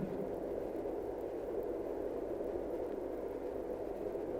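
A steady low rumble, like an express train far off, holds constant throughout with no other sounds.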